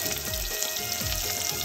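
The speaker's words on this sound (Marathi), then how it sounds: "किती आवाज बघा आवाज फोडणीचा" Masala and bay leaf tempering in hot oil on a wood-fired stove give off a dense, steady sizzle and crackle, close and continuous through the short moment.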